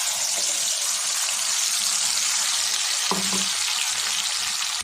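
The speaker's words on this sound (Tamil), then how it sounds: "பச்சை கிராம்பு ஏலக்காய் எல்லாம் எண்ணெயில் நல்லா பொரிஞ்சுமே" Whole spices, cinnamon, cardamom and cloves, fry in hot oil for a chicken dish, giving a steady, loud hiss and crackle throughout, with a couple of faint knocks of a utensil.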